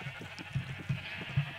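Sheep in the Minecraft video game bleat quietly in a few short, evenly spaced calls over a faint, steady background hum.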